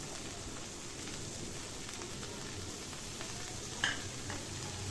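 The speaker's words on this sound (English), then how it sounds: "the next step is roasting the dry fishes" Four pieces of dry fish roasting in a pan for a Khasi tungtap chutney from Meghalaya, giving a faint, steady crackling sizzle with one small clink partway through.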